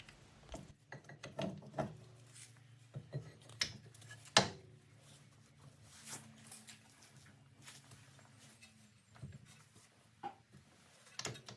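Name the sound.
ratchet tightening brake caliper bolts on Audi A6 C7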